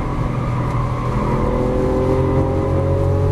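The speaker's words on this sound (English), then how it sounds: "this is just a plain noisy car" A Lamborghini Aventador LP700-4 drives in third gear, its engine droning loud and steady from inside the cabin with tire noise rolling underneath and a slowly rising pitch.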